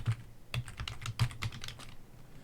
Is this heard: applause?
no